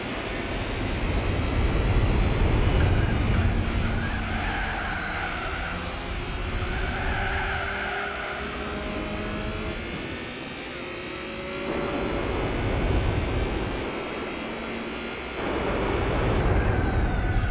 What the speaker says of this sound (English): Although the engine sounds horrible. Listen to that engine.